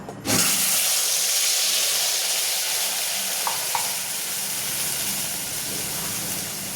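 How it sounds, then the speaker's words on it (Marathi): Ground spice masala hitting about three ladles of hot oil for a sev rassa curry, a loud sudden sizzle that flares and then settles into a steady hiss, with a couple of faint utensil clinks. "3 पळी तेल तापायला ठेवलं होतं, आपण त्याच्यात मसाला टाकून घेऊ आता"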